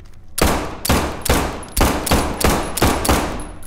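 Gunfire in the video game SCP 5K: eight loud, evenly spaced shots about half a second apart, each a sharp broadband crack with a ringing tail, close and in the foreground with no talk over them.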